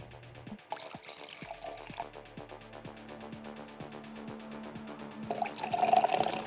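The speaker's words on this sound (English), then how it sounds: "Would you like me to pour the drinks for you and your guests?" Drinks are poured for guests, a thin stream of liquid trickling and dripping into glasses against a quiet tonal background, with a brighter, louder splash near the end.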